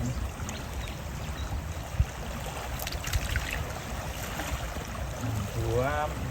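Water flows steadily through a stream by flooded fields in Sukhothai, Thailand, with a soft, constant rushing trickle and one small clatter. A voice briefly rises near the end.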